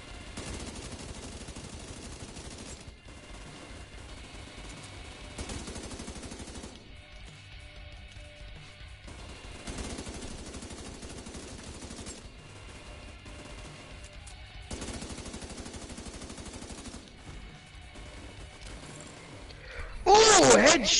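Minigun fire in Tom Clancy's The Division 2, coming as several long sustained bursts separated by short pauses, loud and steady, with game voices and effects mixed in around it.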